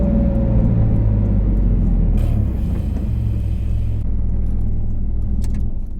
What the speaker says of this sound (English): That whoosh and the hiss of those turbos behind, complemented by the undertone of that Metzger-like sound emanating from the CTR Anniversary's exhaust.